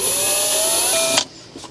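Power drill boring into a floor with a 1/8 inch bit and no drill stop, a loud steady high whine lasting over a second before cutting off abruptly, leaving quiet room tone.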